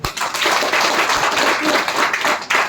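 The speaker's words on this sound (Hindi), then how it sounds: "जोरदार तालियां" Loud, dense audience applause at a motivational talk, sustained clapping from a crowd close by that swells and holds for a few seconds.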